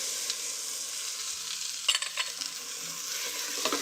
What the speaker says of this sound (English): you just brown the tomato paste a little bit to take a little bit of the harsh edge off of it